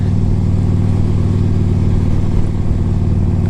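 A 2005 Harley-Davidson Electra Glide Classic 1550 with a big bore kit rumbling steadily while riding, a loud, even low throb of engine and road noise throughout.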